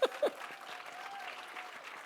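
An audience claps for a panelist being introduced, with fairly faint, scattered applause from a small crowd after a couple of louder spoken bursts at the start.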